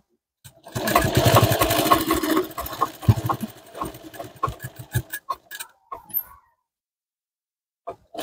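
A sewing machine stitching a blouse runs in a fast, close mechanical clatter for several seconds, then slows to a few separate stitches and stops, followed by silence and a brief final click.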